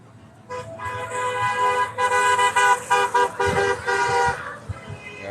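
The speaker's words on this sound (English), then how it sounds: "Some of these horns sound funny. Some are like really deep" Many car horns honk together at a freedom protest, a mix of deep and yelpy tones blaring in overlapping bursts for several seconds, loud and close, with scattered shouting beneath.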